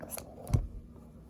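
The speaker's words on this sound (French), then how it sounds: "Je coupe le fil." Scissors snipping yarn while knitting a sweater for a 9-12 month baby, one quick close crisp cut with a brief metallic rustle, fairly quiet and alone.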